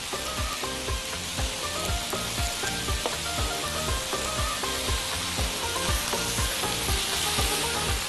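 Chicken kofta and macaroni fry in a pan with a steady, dense sizzle and crackle that runs unbroken and fairly close, with no voices.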